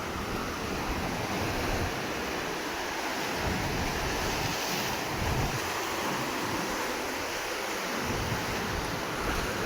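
Sea waves break continuously on a shore during a day of rod fishing, a steady roaring surf with gusts of wind buffeting the microphone and no voices.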